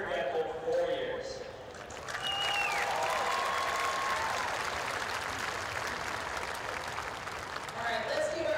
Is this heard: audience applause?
yes